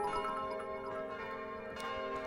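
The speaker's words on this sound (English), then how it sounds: "Wait, the bell is ringing." A bell rings in the video game Kingdom: New Lands, sounding as sustained metallic tones with a few soft repeated strikes, faint and alone with no talk.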